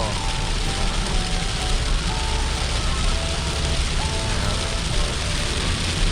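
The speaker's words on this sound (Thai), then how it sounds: "ฝนตกหนัก" Heavy rain pouring down at a roadside viewpoint in Chiang Rai, a dense steady hiss drumming on surfaces close by, with a vehicle's hum underneath and voices talking at times.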